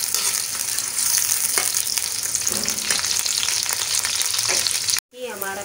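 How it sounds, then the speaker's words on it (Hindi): A cup of hot oil sizzles loudly as onions fry for a Pakistani-style spinach and lentil curry. The crackle is dense and continuous, with stirring, then cuts off abruptly near the end. "अभी ऑयल हो गए गरम, अभी इसमें ऐड कर लेंगे प्याज"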